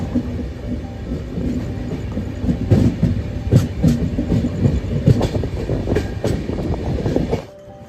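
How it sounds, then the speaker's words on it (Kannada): A Mysore–Jaipur Superfast Express runs steadily on the rails near Bhopal, heard from on board as a continuous rumble with rhythmic clickety-clack wheel beats; the sound cuts off abruptly near the end. "ಇದರಲ್ಲಿ ಗೈಸ್ ಈಗ ನಮ್ಮ ಟ್ರೈನ್ ರೀಚ್ ಆಗ್ತಾ ಇದೆ ಭೋಪಾಲ್ಗೆ"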